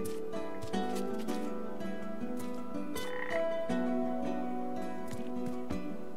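Frog croaking in the video game PaPo & Yo, a steady run of deep, rhythmic croaks repeating every half second or so, fairly faint and alone with no talking over it.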